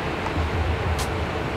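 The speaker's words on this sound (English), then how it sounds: "It's windy and there's water noise behind me." Steady outdoor wind rumble with a broad wash of water noise, continuous and fairly loud across the short stretch, with no talk.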